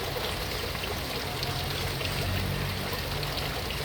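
Steady, dense rain hiss with a constant watery rush, fairly close and even throughout, with no voices.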